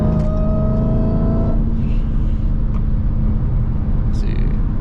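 A Dodge Charger Hellcat revs hard from inside the cabin on a rainy road, a loud steady engine roar with a rising tone that briefly drops as the gear shifts, and hiss of wet tires underneath.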